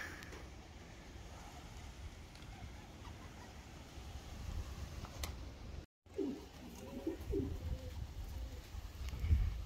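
A flock of pet pigeons coos softly in low throaty bursts outdoors, heard under steady gusty wind noise, with the cooing growing clearer toward the end.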